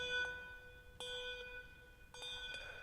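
Handbells at a Christmas concert ring out in several clear, bright strikes that sustain and are then shut off, leaving quiet gaps between them.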